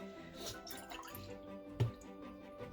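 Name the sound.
pouring oat milk into a container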